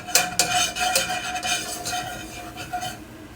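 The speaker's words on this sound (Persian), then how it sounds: "Add some turmeric to the butter and mix." A utensil stirring turmeric into melted butter in a pot, with a run of repeated scraping and clinking strokes against the metal and a soft sizzle beneath, close and steady throughout.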